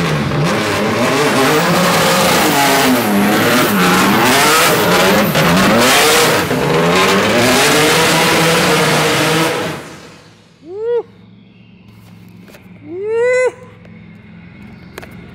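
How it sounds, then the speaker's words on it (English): Rhys Millen's Hyundai Genesis Pikes Peak race car, a high-horsepower build on big tires, roars through a sustained burnout with the engine bouncing off the limiter, then cuts to idle and gives two sharp, loud revs. "It's time for burnouts."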